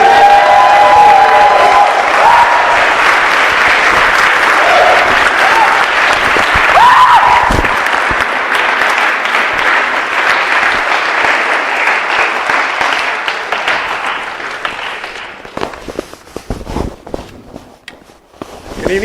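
A comedy club crowd in St Albans claps and cheers loudly as a comedian is welcomed to the stage, with dense sustained applause that thins out toward the end.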